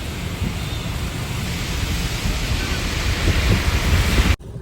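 Steady roaring rush of falling water, dense and continuous, close by, with a brief cut near the end.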